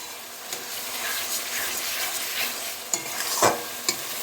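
A spiced masala gently fries on low heat in a pan with a steady soft sizzle throughout, broken by a few sharp scrapes and clacks as a spoon stirs it, loud and close.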